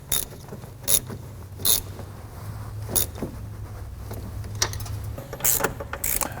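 Fasteners on a Chevy truck brake booster being run down by hand with a swivel socket on an extension, heard as close ratcheting clicks and metallic clunks in short bursts, with no talking.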